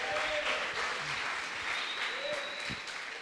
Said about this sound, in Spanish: Démosle un aplauso a Jesús.